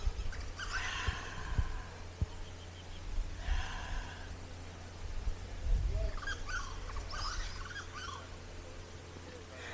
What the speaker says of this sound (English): they are flying and chirping and so happy out here by the ocean